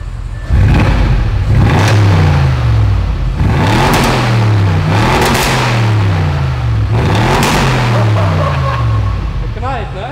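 Audi RS6 with a roughly 560 hp engine revs hard three times in a row, each rising roar falling back with crackling exhaust pops, loud and close.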